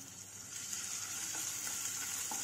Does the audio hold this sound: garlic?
yes